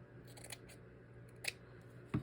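Scissors snip through paper and cardstock while a Snow White themed flappy folio is being made, giving a few sharp, close cuts spread across a quiet background with a steady low hum.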